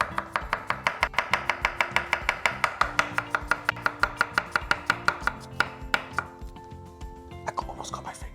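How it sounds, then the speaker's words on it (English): Knife chopping cucumbers on a cutting board for a Persian cucumber salad, a steady rapid run of crisp, close taps that slows and spreads out toward the end. "So here we are with the cucumbers, all beautifully sliced."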